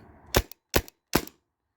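Three sharp, close pops from a Tippmann Cronus Tactical .50 caliber paintball marker fired from the hip, evenly spaced roughly 0.4 seconds apart, each followed by a brief rattle.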